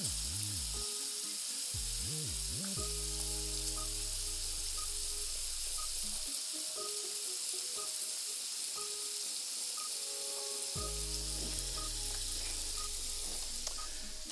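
Bacon strips sizzle and crackle in a frying pan in a steady, close hiss, with a few low clanks and stirring bumps early on, and no talking.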